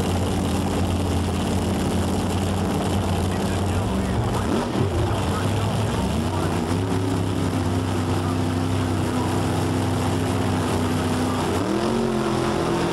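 Pro Mod drag racing cars roar down the track at Castrol Raceway in Edmonton, a loud sustained engine drone with shifting pitch throughout, under an announcer's commentary.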